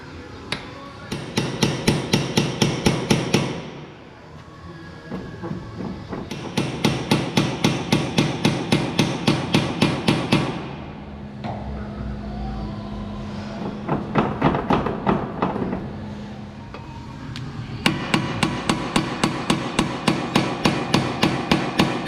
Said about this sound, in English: we're about to separate the ball joint here.